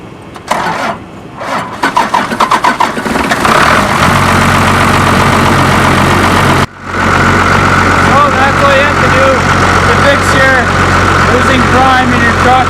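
First-gen Cummins diesel pickup engine cranking with a few rapid chugs, then catching and settling into a steady, loud, clattering idle close by.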